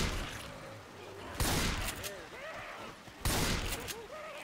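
Bursts of automatic gunfire ring out in Left 4 Dead 2 during The Passing, two loud volleys about two seconds apart. Excited voices shout between and over the shots.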